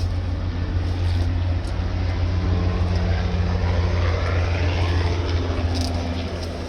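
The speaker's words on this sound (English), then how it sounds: "you're going to be hearing the helicopters flying over quite a bit" A steady low rotor-like engine drone fills the air, a helicopter passing overhead, loud and continuous with no speech.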